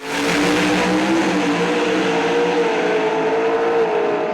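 An 800 cubic inch Mountain Motor Pro Stock drag car of about 2,000 horsepower launches on the clutch, a loud, sustained engine roar that holds steady throughout with no voices over it.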